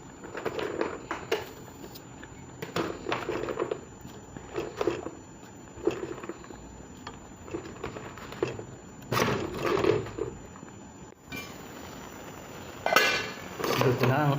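Adobong sitaw, string beans with chicken, cooks in a pan, with repeated scraping and clinking of a utensil against the pan and a steady low sizzle beneath, close and moderately loud.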